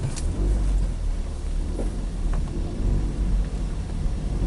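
A 2012 Nissan Versa with a faulty throttle body actuator creeping along slowly, its engine giving a steady low rumble with faint road noise throughout, no voices heard.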